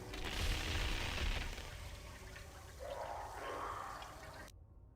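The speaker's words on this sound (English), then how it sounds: "Throw the cold grenade at it." A cold grenade goes off in Knights of the Old Republic, a loud broadband burst with a low rumbling body that holds for several seconds, then a second softer swell before the sound cuts abruptly to silence.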